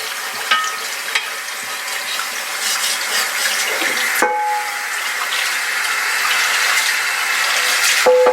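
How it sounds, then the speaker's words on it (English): Water is dumped out of a cast iron pan after scraping with a wooden spatula: a hissing, sizzling splash that runs steadily for several seconds with a few clanks, and no talking. "I just want to dump the water out."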